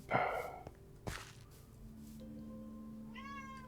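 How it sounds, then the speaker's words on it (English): A domestic cat meows at a door, wanting to be let out; a couple of clear meows stand out near the start and again at the end, set against quiet room sounds and a low steady hum. "that other cat you can hear is mine at the door. She wants out."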